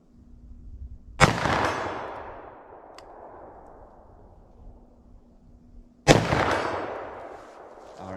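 Two sharp, loud gunshots from a short-barreled .357 Magnum revolver, several seconds apart, each a hard crack followed by a long echoing decay outdoors.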